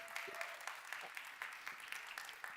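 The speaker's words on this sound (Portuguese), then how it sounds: "Por isso, o vosso aplauso para a Paula Iglesias" Audience applause at a self-care event, heard as fairly faint, sparse clapping with individual claps standing out in a loose, uneven rhythm, no voices over it.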